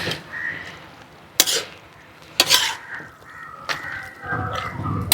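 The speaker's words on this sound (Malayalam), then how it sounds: "നമുക്ക് നല്ലപോലെ ഈ ചെറിയ ഉള്ളി എല്ലാം കൂടെ ഒന്ന് മിക്സ് ചെയ്ത് കൊടുക്കാം." Small onions are mixed in a cooking pot for a bone curry, with a few sharp utensil clacks and scrapes over a soft background sizzle and no talking.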